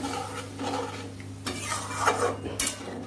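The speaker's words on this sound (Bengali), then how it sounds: "এবার এর মধ্যে আমি পরিমাণ মতো গরম জল দিয়ে দিচ্ছি" Hot water poured into curry gravy in a pan and stirred, with soft scraping, light clinks of a utensil against the pan and a low steady hum beneath.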